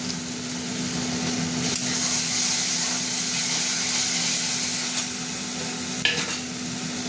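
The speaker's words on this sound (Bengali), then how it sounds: "মশলাটা ভাজা ভাজা হোক।" Spices sizzle and fry in hot oil in a pan while cooking egg curry, a steady close hiss with occasional stirring scrapes and a soft tonal hum underneath.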